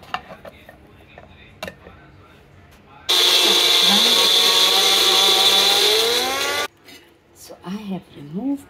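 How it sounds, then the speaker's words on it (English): An electric kitchen grinder pulverising roasted thandai masala ingredients, starting abruptly into a loud, steady high-pitched whir for about three seconds and then cutting off, with light clatter and a voice speaking before and after. "Put all the ingredients in this grinder and now I will"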